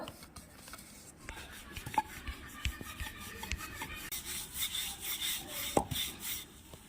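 Momo dough wrappers rolled out on a board with a rolling pin, a quiet rubbing and scraping that repeats in soft strokes, with a few light taps and knocks close by.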